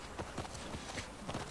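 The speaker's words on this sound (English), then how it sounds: "Ah, horse." Horse hooves clip-clopping in the video game The Last of Us Part II, a quick series of soft rhythmic hoof beats over a steady background hiss, faint and brief.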